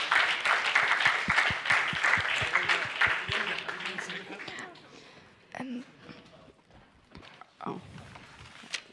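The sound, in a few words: audience applause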